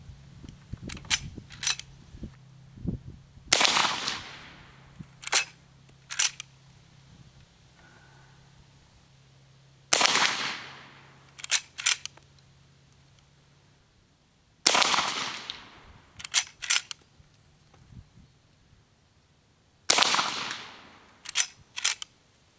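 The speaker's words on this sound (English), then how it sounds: "We'll shoot 5 more at the lower" A Winchester 1873 rifle fires at an outdoor range, with four or five loud, sharp shots spaced several seconds apart, each followed by a short echo and the clack of the lever action cycling.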